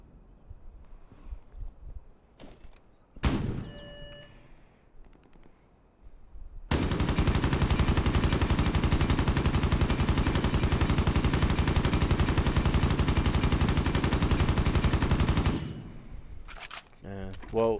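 Fuze's rifle fitted with an angled compensator in Rainbow Six Siege fires one long, steady full-auto burst of rapid shots lasting several seconds, loud and close, with a few isolated clicks and shots before and after.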